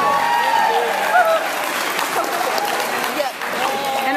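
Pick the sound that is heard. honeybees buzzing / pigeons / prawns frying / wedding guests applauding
wedding guests applauding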